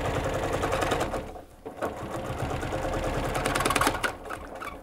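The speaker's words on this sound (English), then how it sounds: "I do like to do a little edge stitch all the way around the potholder." A sewing machine runs steadily, edge stitching close to the binding of a quilted string-block potholder. The close, continuous whir has a brief slowdown partway through.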